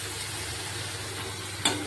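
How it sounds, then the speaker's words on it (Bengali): Snail meat stir-fried in spices, a dense continuous sizzle in the pan with a single sharp spatula clack near the end, close and without voices. "চলো আর 2 থেকে 3 মিনিট আমি কষিয়ে নেব।"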